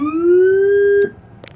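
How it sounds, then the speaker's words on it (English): A loud electronic Rumbler siren installed on an emergency vehicle wails up and holds a steady rising tone for about a second, then cuts off abruptly, leaving a few faint clicks. "We just did a install today on a Rumbler siren."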